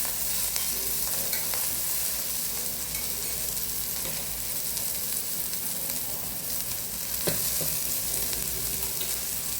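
Chopped large onions fry in a pan for an Indian egg podimas, giving a steady, dense sizzle with faint scraping throughout and no voices.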